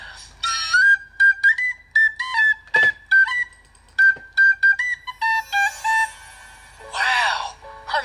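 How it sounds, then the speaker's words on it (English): A penny whistle plays a bright, lilting tune of short, clear notes with trills, close and alone, ending in a brief flourish. "Oh, I know what this is. It's a penny whistle."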